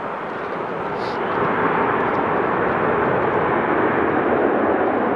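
Transavia Boeing 737 taking off at Amsterdam Schiphol Airport, a loud dense jet roar that rises after the first second and stays strong, with a voice faintly present beneath it.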